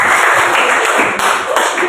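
Children in a classroom clap hands together in a sustained burst of rapid, dense clapping filling the short stretch, close and fairly loud.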